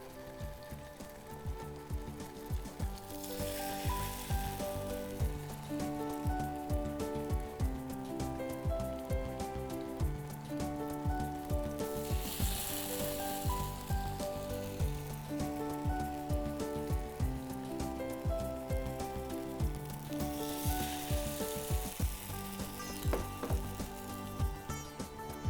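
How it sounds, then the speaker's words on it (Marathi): Coated paneer pasanda sandwiches deep-frying in hot oil, a steady dense sizzle and crackle that runs unbroken and fairly loud, with no voices. "आणि याला दोन्ही बाजूनी चांगल्या प्रकारे गोल्डन ब्राऊन होईपर्यंत फ्राय करायचं आहे."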